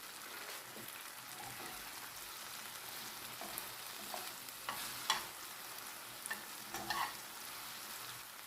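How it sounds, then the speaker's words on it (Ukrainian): Tomatoes and peppers sizzle in a frying pan as spices are added for a shakshuka-style dish. The frying is soft and steady, with a few sharper crackles and stirring scrapes near the end. "Помідори з перцями вже достатньо підсмажились."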